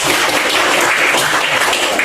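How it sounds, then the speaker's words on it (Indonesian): Steady, loud applause from a crowd, many hands clapping continuously without a break. "Tepuk tangan untuk kita semua."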